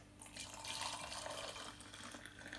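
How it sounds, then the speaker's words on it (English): Hot water pours in a steady, continuous stream, a close liquid rush that swells briefly then holds level, with no talking. "You're gonna pour some hot water on it."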